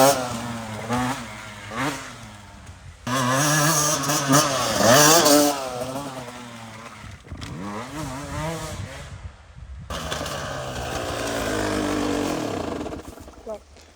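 Beta off-road motorcycle ridden on bumpy terrain, its engine revving and surging in repeated bursts, rising and falling in pitch, with voices talking over parts of it.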